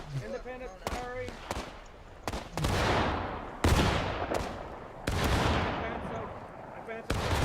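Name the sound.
musket volley fire in War of Rights video game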